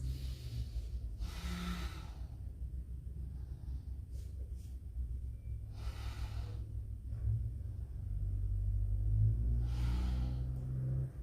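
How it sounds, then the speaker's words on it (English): Slow, deep breathing during a yoga stretch, with a few soft airy inhales and exhales spaced several seconds apart over a low steady background rumble. "So long, deep breaths."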